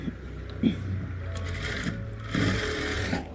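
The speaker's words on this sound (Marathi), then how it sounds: "आता जो शेप बनवला आहे आपण तो शेपवर शिलाई मारायची" Sewing machine stitching the back neck shape of a blouse, its running motor humming steadily with a brief burst near the start and a louder stretch of stitching toward the end.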